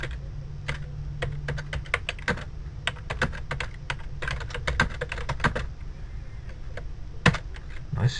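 Rapid keystrokes on a computer keyboard, typed in uneven bursts of clicks with brief pauses, close and clear over a quiet room hum.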